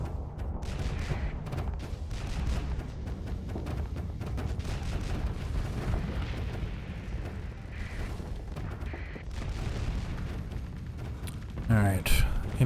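Ship cannon fire in the space game Starsector: dense, continuous booming volleys roll on throughout, with a sharper burst near the end, while someone talks over them.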